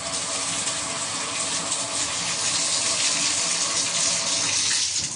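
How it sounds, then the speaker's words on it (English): Steady, loud gush of running tap water splashing into a sink while rinsing toilet-cleaning gear, continuous throughout with no voices. "Let me go rinse it out a little bit."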